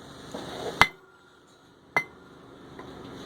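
Treadle hammer, converted from a press, striking an anvil: two sharp metallic clanks about a second apart, each ringing briefly, then a fainter tap, fairly close with no talk.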